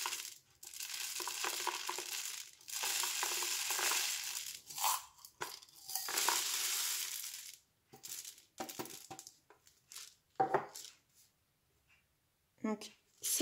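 Dry rice, lentils and chickpeas pour into a homemade shaker instrument in long rattling, hissing bursts, close and fairly loud, broken into several shorter pours with pauses.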